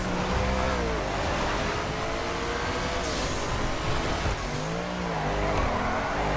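A race car engine in GTA FiveM revs and shifts under acceleration, with rising and falling engine tones and some tire noise, loud and close throughout.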